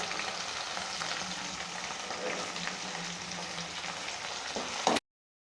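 Tomatoes sauté in a pan for a Tamil-style mutton gravy, giving a steady, close sizzle with light stirring scrapes that runs evenly and then cuts off abruptly.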